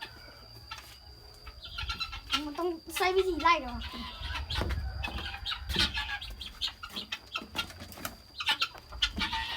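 Chickens clucking and squawking with bursts of wing flapping in a farm setting, close and intermittent, with people talking over them throughout.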